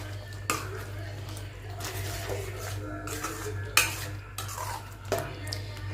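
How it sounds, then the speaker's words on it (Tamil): Capsicum and onion get stirred into a thick masala gravy, with wet squelching stirs and occasional sharp knocks of a spoon on the pan over a faint hum while someone talks. "இந்த குடமிளகா, வெங்காயம் இதை நம்ம இதில் சேர்த்துக்கலாம். சேர்த்துட்டு ஒரு கிண்டி கிண்டி விட்டுருங்க"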